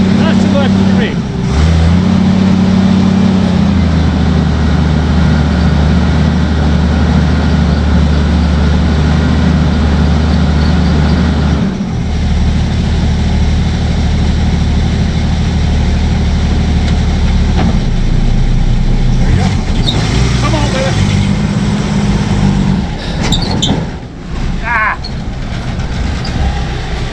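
A vehicle engine runs loud and close in a garage, holding a steady low drone with occasional shifts in pitch as it revs, while people talk over it.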